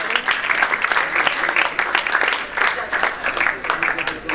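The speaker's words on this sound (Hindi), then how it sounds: "मोहम्मद जुनैद सफ्तर के लिए भी जोरदार तालियां।" An audience at a boys' high school farewell party claps loudly, a thick continuous wash of applause with small swells that carries on without a break for several seconds.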